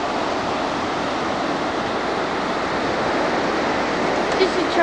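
Strong wind buffeting a microphone on a Florida beach at Vero Beach, a constant loud broadband roar with surf-like rushing throughout, steady and close, with no clear speech heard.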